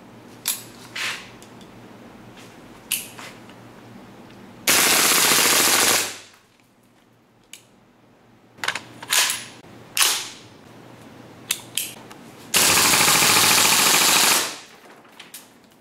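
RA-Tech WE XM-177 gas airsoft rifle shooting 0.2 g BBs on green gas, sharp single shots and clicks mixed with two long, loud full-auto bursts of rapid firing, close by.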